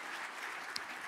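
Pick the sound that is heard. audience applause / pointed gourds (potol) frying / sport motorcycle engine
audience applause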